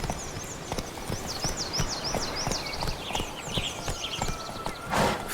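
Roach the horse gallops in The Witcher 3, rapid rhythmic hoofbeats clip-clopping steadily and close throughout, with a brief louder burst near the end.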